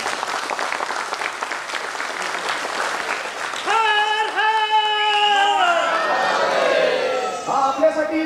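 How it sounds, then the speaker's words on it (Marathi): An audience of several hundred people gathered for a film screening bursts into sustained applause with scattered cheers. The clapping is dense and steady at first, then a voice speaks over the crowd noise. "तुम्ही स्वतःसाठी एक टाळ्या वाजवा की महाराजांसाठी वेळ काढून तुम्ही आला।"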